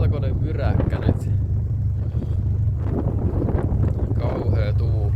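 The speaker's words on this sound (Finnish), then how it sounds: "Kauhea tuuli." Strong wind buffets the microphone in a constant low rumble, with someone talking over it throughout, before a DD Audio LE-M12 12-inch prefab subwoofer enclosure SPL test.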